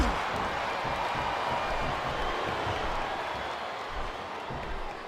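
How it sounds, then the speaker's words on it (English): Steady crowd roar and cheering fill a wrestling arena in WWE 2K25, a dense, even wash of noise with scattered clapping that holds at constant loudness throughout. "Man, this crowd is really swelling this guy's head."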